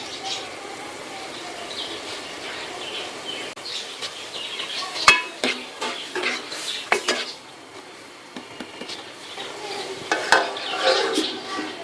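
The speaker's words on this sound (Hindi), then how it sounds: "तकरीबन 2-3 मिनट के लिए इसको इस मसाले में थोड़ा पका लेंगे, भून लेंगे।" Chopped ginger frying in masala for chickpeas, a steady sizzle broken by repeated clinks and scrapes of a spoon stirring in the pot.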